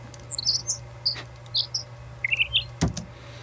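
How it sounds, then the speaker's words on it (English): Synthesized bird chirps made with a sine-wave oscillator in the Serum synth, scattered quick high tweets over a low steady drone with one brief thump near the end. "these are the birds that we mentioned before"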